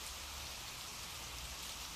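Steady rain falls in a dense, even hiss of countless drops with a faint low rumble underneath, soft and continuous without any voices.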